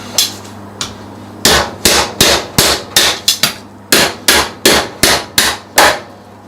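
A claw hammer taps a knife blade down through a corn cob on a cutting board, about a dozen sharp, loud, close metallic whacks in a steady irregular rhythm with brief pauses between.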